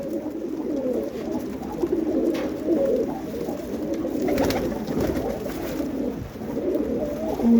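A flock of flying pigeons coos nearby in a continuous, layered rumble of throaty calls, steady and fairly loud throughout, with occasional wing flutters or shuffles and no speech.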